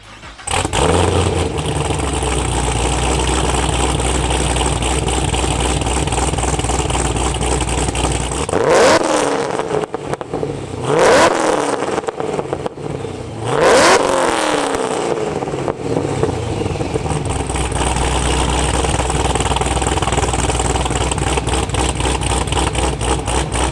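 Whipple-supercharged 427 V8 in a Camaro Z28 idling with a heavy, lumpy rumble, then three sharp blips of the throttle that flare and drop away before it settles back into a loud, steady idle.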